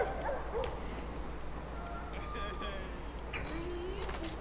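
A dog barking in the video game Far Cry New Dawn, a few short yips and barks over a steady low game rumble, with a player talking.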